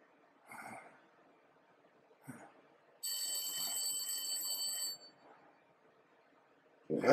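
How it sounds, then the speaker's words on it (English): A telephone rings once in the Blacksad: Under the Skin video game, a steady two-second electric bell trill set against quiet room ambience with faint scattered sounds. "That's the phone call."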